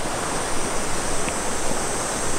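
A clear river at the World Heritage village of Shirakawa-go, its steady broadband rush of flowing water continuing evenly throughout without voices.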